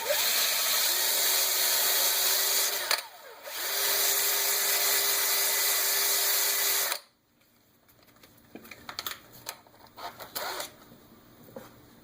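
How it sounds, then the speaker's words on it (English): A woodturning lathe spins a mouse pad mounted on a power sanding arbor while coarse sandpaper sands it down. A steady whining motor hum dips briefly, then resumes, then cuts off, leaving scattered clicks and handling noises. "take a piece of coarse sandpaper and just sand down the mouse pad"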